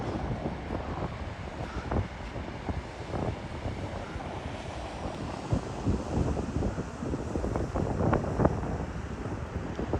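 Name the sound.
wind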